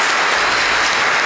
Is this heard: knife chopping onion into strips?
no